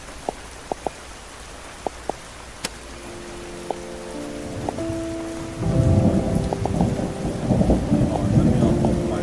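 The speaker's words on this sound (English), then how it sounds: "I can get the thunder sound effect" Thunderstorm sound effect with rain played over a live stream: scattered clicks, then rolling thunder rumbles building under a steady hiss of rainfall that swells louder in the second half, with no talk.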